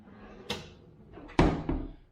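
A large newly built wooden kitchen cabinet drawer is handled, giving two or three close thumps and knocks as it slides and shuts, with no talk.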